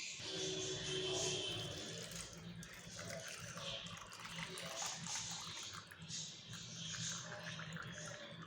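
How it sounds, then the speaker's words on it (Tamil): Homemade ghee poured through a strainer, a steady liquid trickling and pouring sound that continues throughout at moderate level, with faint kitchen background. "இப்போ நம்ம காய்ச்சின நெய்யை வடிகட்டி எடுக்க போகிறோம்"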